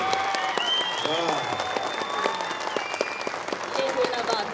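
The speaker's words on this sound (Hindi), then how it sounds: "कम से कम जोरदार तालियां टीपू सुल्तान के लिए" Hearty audience applause at a poetry recital during a mushaira in Belgaum, steady clapping throughout with cheers and shouting voices mixed in.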